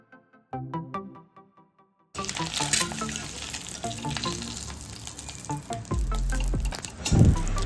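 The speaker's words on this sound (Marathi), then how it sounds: "अंडे चांगले गोल्डन कलर येस्तोवर फ्राय होऊन गेलेले आहेत" Eggs fry in oil in a pan, giving a steady, close sizzle that starts suddenly after a quiet, clattery opening and swells briefly near the end.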